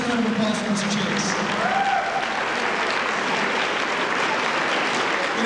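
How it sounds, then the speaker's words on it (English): Audience applause fills a magic show venue, a dense, loud wash of clapping from a crowd that holds steady throughout, with a voice briefly audible over the start of the ovation. "give a nice round of applause for Mr. Chase."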